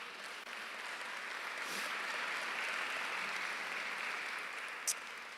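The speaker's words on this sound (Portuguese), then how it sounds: "Vamos aplaudir a Deus?" A church congregation applauds after a sermon, a soft, steady wash of many hands clapping heard from a distance, with no one speaking over it.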